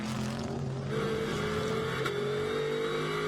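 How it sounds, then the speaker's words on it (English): Bentley GT race car with an Audi-based twin-turbo V8 at Imola, GT World Challenge Europe, accelerating hard with rising engine tones layered over distant trackside drone, moderately loud. "And hard on the throttle, the V8 twin turbo, basically Audi based motor"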